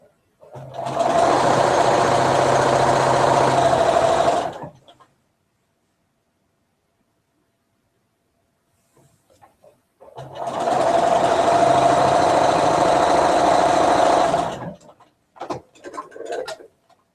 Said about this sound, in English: There's something just so soothing about sewing patches together.